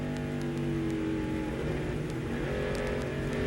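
A NASCAR race car engine drones loud and steady as the driver plays with the throttle, the revs wavering slightly up and down throughout with no pause.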